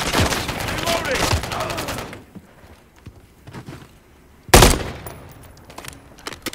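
Gunfire in the Modern Warfare 3 beta, a burst of rapid shots at the start, a quiet stretch with scattered small clicks, then one loud close blast followed by fainter pops.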